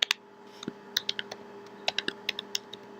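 Crisp individual keystrokes on a computer keyboard as a command is typed, irregular clicks spaced through a quiet room with a faint steady hum underneath and no talking.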